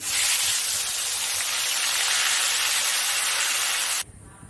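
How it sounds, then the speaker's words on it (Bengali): Nigella seeds and dried chillies dropped into hot oil give a loud, steady hissing sizzle up close, cutting off abruptly near the end. "এবার আমি কালো জিরা, শুকনো লঙ্কা ফোড়ন দেব"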